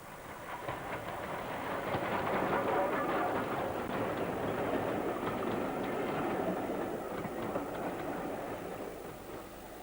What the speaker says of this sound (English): one of the massive War Department austerity locomotives